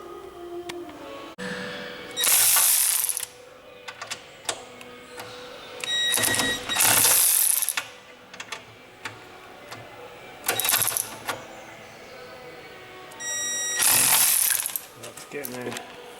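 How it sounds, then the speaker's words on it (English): A hand ratchet works loose bolts in several bursts of rapid clicking, each lasting about a second, separated by quieter handling sounds and occasional speech. "we'll get these bolts undone"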